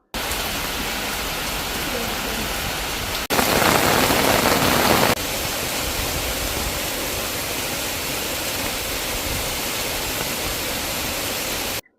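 Heavy monsoon-style rain pours steadily across Sivaganga district in Tamil Nadu, a dense, continuous hiss of downpour filling the whole stretch, briefly surging louder for a couple of seconds before settling back to an even roar.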